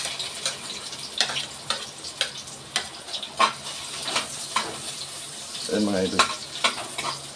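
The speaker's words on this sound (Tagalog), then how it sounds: "So, lagay naman na natin yung mantika. Bawang, sibuyas." Garlic and onion hit hot cooking oil in a pan, with a soft sizzle beneath repeated sharp clacks of a utensil stirring, and someone speaks briefly over it.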